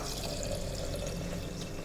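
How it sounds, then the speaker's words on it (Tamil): Water poured from a tumbler over rice and dal in a pressure cooker while making sweet pongal, a quiet continuous splashing trickle with no voices. "1 டம்ளர் அரிசிக்கு 2 டம்ளர் தண்ணி ஊற்றிக்கலாம்."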